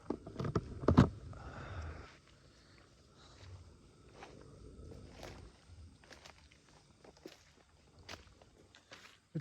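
Footsteps crunch on the forest floor at night, with a loud burst of rustling at the start followed by softer, irregular steps and scuffs that seem to move at a distance.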